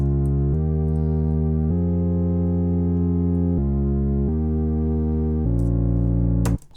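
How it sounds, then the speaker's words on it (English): Sustained synthesized chords play for a melody-writing lesson. The loud, held harmonic blocks change about every second or so in a steady progression, with no talking over them. "So our chords, they sound like this."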